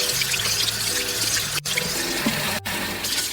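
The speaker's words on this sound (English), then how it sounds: "Drain the noodles in a colander while the cold water is running." Cold tap water pours steadily into a colander of noodles, a close, continuous splashing rush with two brief cut-outs in the flow.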